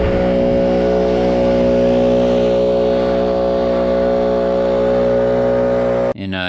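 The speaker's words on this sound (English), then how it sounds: "Here we're blowing some pine straw." Stihl BR800X backpack leaf blower running at full throttle while blowing pine straw, a loud, close, sustained engine drone with strong steady harmonics that cuts off abruptly at the end.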